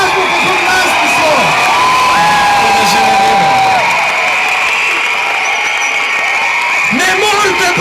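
A large crowd of students at a street protest cheers, whoops and shouts loudly and continuously, with whistles and a blaring loudspeaker voice mixed into the din.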